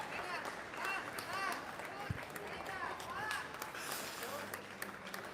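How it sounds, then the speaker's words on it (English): Crowd cheering and applauding a rider at a women's bike trials World Cup final in France, a steady broad roar of spectators with scattered claps and shouts, loud throughout. "the MC's got the crowd going to get behind her"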